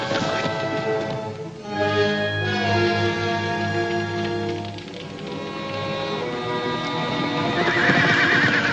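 Horses whinnying and neighing near a camp in a Western setting, several loud drawn-out calls over rhythmic hoof clip-clops, with a rain-like patter behind and no talk.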